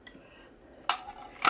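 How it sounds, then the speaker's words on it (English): Metal lids are dropped into a candle lamp, giving two sharp metallic clinks close by against a quiet background. "I would put that lid in here and maybe multiple lids"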